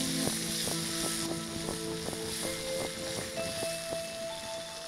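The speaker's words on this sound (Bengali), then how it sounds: "পেঁয়াজটা একটু ভাজা ভাজা হোক।" Chopped onions frying in oil in a kitchen pan, a steady low sizzle heard under a brief melodic tone, without voices.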